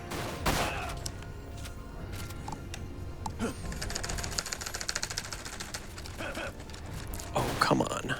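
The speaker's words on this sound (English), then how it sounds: "Who's shooting me?" Gunfire in the video game Dirge of Cerberus: Final Fantasy VII crackles at the player in rapid bursts and scattered shots over game noise, with sharp impacts at moderate volume.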